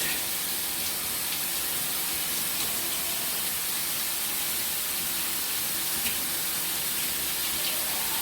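Water runs steadily from a tap, a constant close hiss and splash as henna is rinsed out of hair with conditioner. The flow stays unbroken and there is no talking.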